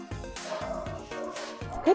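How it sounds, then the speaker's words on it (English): Puppies bark and yip in several short, close bursts, with a whimper at the end and a voice in the background. "Sorry about the barking dogs."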